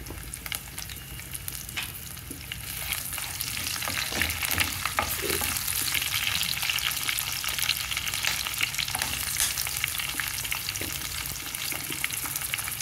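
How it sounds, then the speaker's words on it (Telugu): Chillies frying in hot oil in a pan for sorakaya curry: a steady, hissing sizzle that swells slightly and holds throughout, close and continuous with faint stirring clinks. "తిరుమల కాగిపోయిన తర్వాత అందులో మిర్చి వేసుకోవాలి."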